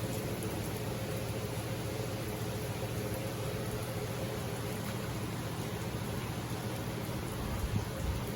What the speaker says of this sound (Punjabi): ਮੀਂਹ ਹੋ ਗਿਆ ਤੇਜ਼ ਹੁਣ